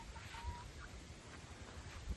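Chickens cluck softly at an open-field farm, with scattered low clucks over a steady outdoor background and no talking.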